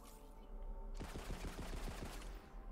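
Rapid gunfire in Wonderlands aimed at clampifiers, about a dozen evenly spaced shots in a steady burst over constant background game sound.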